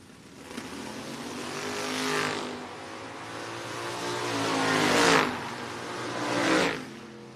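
Dodge Coronet and Dodge Daytona in a drag race at a racing event, loud engines roaring and revving through rising surges as the cars pass, with no talking.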